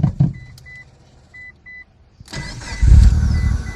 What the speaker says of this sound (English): We should be able to start this car up, and cross our fingers, and hopefully this thing will turn on